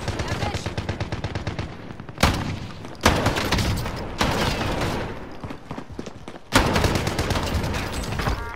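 Heavy shotgun blasts in the video game Warzone, several loud booming shots at irregular intervals over dense rapid gunfire and game action, close and dominant throughout.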